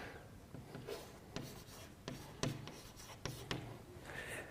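Chalk or marker writing on a board during an astrophysics lecture, faint scratchy strokes in short irregular bursts, with quiet room noise between them and no talk.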